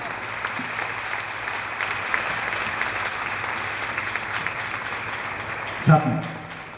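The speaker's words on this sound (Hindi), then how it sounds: "जब भी कोई आता है तो तालियां बजनी चाहिए।" Audience clapping at a church gathering as people come forward, a steady wash of applause running beneath a voice, with a sharper burst near the end.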